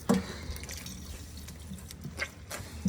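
Water drips and splashes softly while an acoustic foam panel is wetted, a few scattered, faint drips and squishes close by without any talking.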